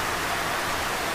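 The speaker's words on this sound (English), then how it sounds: "suddenly torrenting down with flood-worthy amounts of rain" Dense, hissing rain pours down heavily and without pause in Singapore, a loud, even wash of noise with thunder.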